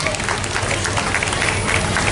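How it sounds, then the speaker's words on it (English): Audience applause at a Prairie Days event, a steady wash of clapping and crowd noise held at an even level throughout. "give him a big round of applause"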